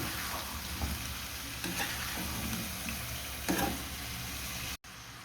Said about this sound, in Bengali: দিয়ে দিব ফুলকপি, আলু। এটা ভালো করে মিশিয়ে দেব।